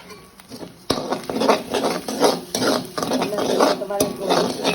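Salt, turmeric and spices are stirred in a hot pan for egg idiyappam kottu, with scraping, shuffling stir strokes and soft frying sizzle in close, uneven bursts after a sharp clank.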